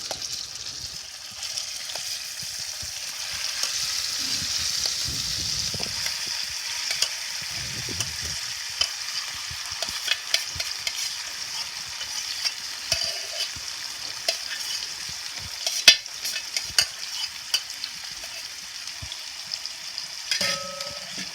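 Mashed carrots and nuts fry in a pan for carrot halwa, a steady close sizzle broken by scraping, stirring clatters and a few sharp utensil knocks throughout, with no voices.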